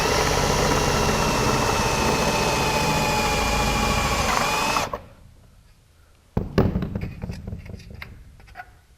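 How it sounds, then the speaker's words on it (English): Power drill fitted with a stepper bit opens a hole in aluminum fuselage sheet for a Zenith CH701 kit aircraft, a loud steady whine for about five seconds that stops, then a few sharp clunks and rattles of handling after a brief quiet. "I'm going to open this up to a larger size using a 1/4 inch drill bit, or in my case, I'm using the stepper bit."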